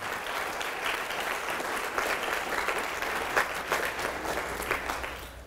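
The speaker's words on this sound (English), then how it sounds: "Round of applause for yourselves" Audience at a meditation masterclass claps together in a room, a dense, steady patter of many hands at moderate level, lasting the whole stretch and tapering slightly at the end.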